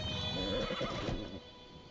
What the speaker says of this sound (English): there's a horse right there